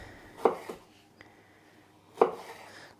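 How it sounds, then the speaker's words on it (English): A knife cuts through a red pepper being sliced into strips on a board, two distinct chopping strikes a couple of seconds apart, close and crisp, with a faint tap between them in a quiet kitchen. "this red pepper I'm cutting into strips to go on my salad."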